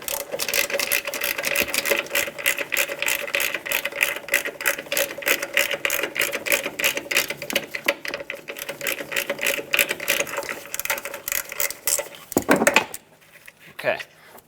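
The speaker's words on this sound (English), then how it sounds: "Just put my socket over, break it free." A socket wrench ratchets rapidly on a bolt of a 2009-2014 Ford F-150 strut, a close, steady run of clicking for several seconds before it stops, with a clunk or two at the end.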